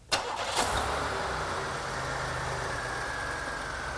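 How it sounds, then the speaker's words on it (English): A car engine cranks briefly, catches with a sharp burst, then settles into a steady, even idle close by, with no talking. "Okay, Chris, start it up"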